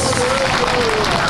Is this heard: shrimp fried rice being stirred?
no